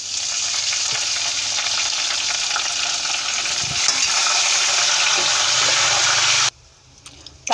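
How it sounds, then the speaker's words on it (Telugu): Mustard seeds and dried red chillies fry in hot oil for a tempering, giving a loud, dense, continuous sizzle close up. The sound cuts away abruptly near the end. "ఇప్పుడు ఆవాలు పోస్తున్నాను. ఆవాలు కూడా కొద్దిగా వేగనివ్వాలి."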